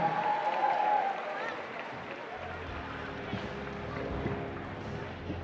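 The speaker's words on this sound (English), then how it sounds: "Make some noise for Rob Knight jumping in" Applause and cheering from a crowd at a cage fighting event filling the space, steady and moderately loud, with some voices and rumble mixed in.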